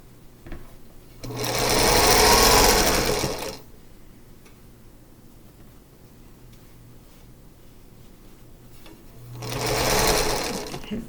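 A sewing machine stitching a quilt block runs in two steady, loud bursts, one lasting about two seconds and a shorter one near the end, separated by quiet handling of the fabric and no talking.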